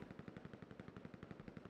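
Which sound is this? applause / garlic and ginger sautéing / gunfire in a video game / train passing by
gunfire in a video game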